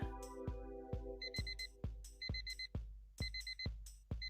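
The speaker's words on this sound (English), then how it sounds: "I had time until the morning alarm sounded." Morning alarm clock ringing in a video game set in 1986 Hong Kong, a rapid electronic beeping in repeated bursts with short gaps, alone and clear with no voices.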